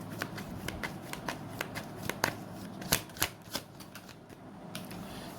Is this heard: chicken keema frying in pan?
no